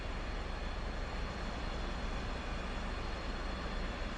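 An aircraft engine spins up in the DCS flight simulator, a dense steady roar and hum that holds even and loud from start to finish, with no voices over it.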